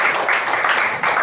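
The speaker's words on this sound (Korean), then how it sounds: "우선 우리 교수님한테 박수 좀 주시고요." A lecture audience applauds after a talk, a dense wash of many hands clapping that is moderately loud and steady for its brief length.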